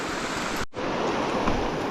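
Low water in Holiday Creek near McBride, British Columbia, flows over rocks beside a hiking trail, a steady close rushing hiss with a momentary cutout.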